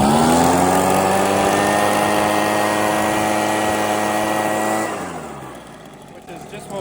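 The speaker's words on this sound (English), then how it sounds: "You can tell it's running a little on the lean side, which isn't that good because that means the engine's also running hot." A Husqvarna 130BT backpack leaf blower engine running lean, holding a steady, loud, buzzy high-revving drone with strong harmonics for about five seconds before dropping off and winding down.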